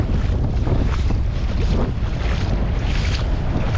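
Strong wind buffets the microphone in a continuous loud roar while fishing at sea, mixed with rushing water and a boat's low rumble.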